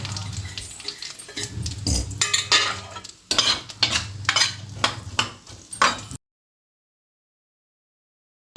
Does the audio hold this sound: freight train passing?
no